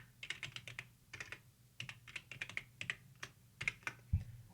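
Text being typed on a computer keyboard in quick, irregular runs of crisp key clicks with short pauses, close and quiet, ending in one heavier keystroke.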